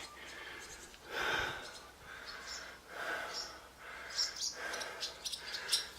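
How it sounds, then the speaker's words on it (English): Repeated bird calls and chirps echo inside an abandoned house, some broad rasping bursts and some bright high tweets, moderately loud with no voices. "Yes, it is birds, thankfully."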